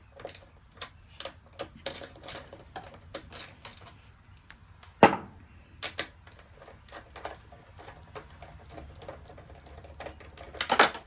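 A 10mm wrench works the two mirror bolts loose on a 2015-or-later Yamaha R1 sportbike, making a string of sharp metallic clicks and ratcheting ticks at an uneven pace, close up, with no one talking.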